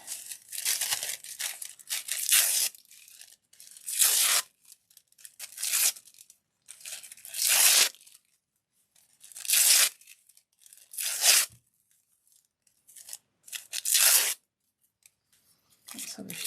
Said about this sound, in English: Let's see if I can rip that down the middle.